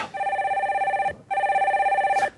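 An electronic telephone rings for a call-in, two loud, warbling bursts about a second each with a short gap between them, close and clear with no talking.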